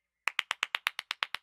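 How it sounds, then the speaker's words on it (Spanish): Eleven evenly spaced sharp claps, like an added applause effect, ring out quickly and close at a national michelada fair in Puebla, with a brief faint tone just before. "Edición, échale unos aplausos"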